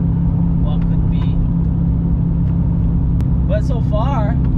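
A cammed car running without a tune gives a steady, loud low engine rumble from inside the cabin throughout, with someone talking over it near the end.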